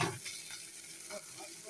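Eggplant frying in a pan as a spatula stirs it, producing a short, steady sizzle with soft scraping, close and moderately quiet.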